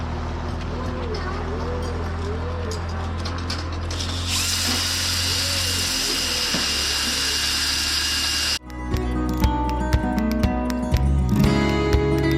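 A drill spinning a polishing attachment against heavily rusted harvester ripper frame pins gives a steady whirring grind that changes pitch midway, then carries on with sharper clatter while someone talks over it.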